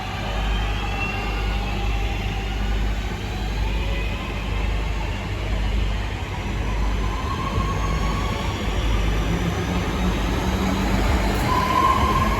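A train recording on the Glossop line rumbles steadily throughout with a continuous rolling roar of wheels on rail, faint motor whines drifting in and out, and no talk.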